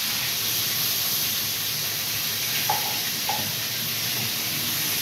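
Garlic and onion fry in hot oil with a steady, dense sizzle throughout, and a couple of faint clinks from a utensil come near the middle.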